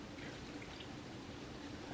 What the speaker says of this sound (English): I just pick it up like this and drain the water away